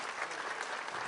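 Audience applause at the close of a lecture by Gad Saad, steady dense clapping throughout, soft and somewhat distant, with no voices over it.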